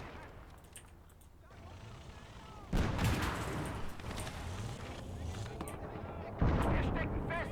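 Artillery fire in the World War II strategy game Call To Arms: Gates Of Hell, heavy booming blasts landing twice amid dense rumbling battle noise, loud and continuous with voices underneath.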